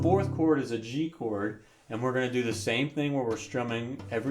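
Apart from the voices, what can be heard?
No distinct noise like a dog, phone or traffic.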